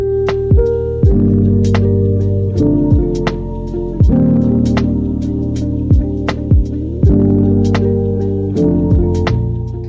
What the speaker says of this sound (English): Beat them at medium speed for about 7 minutes.